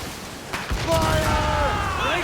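Ship cannons fire during a naval battle in Assassin's Creed Rogue, a heavy boom landing partway through and rumbling on beneath shouted crew orders.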